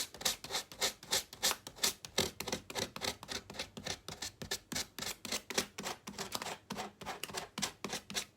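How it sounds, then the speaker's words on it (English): Hand sanding on a wooden wedding frame, brisk rhythmic back-and-forth scratchy strokes, close and steady, with no talking. "I'll just keep sanding for a minute and see where we go with it."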